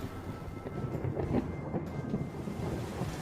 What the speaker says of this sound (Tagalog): O ayan, kumukulog na nga ng malakas.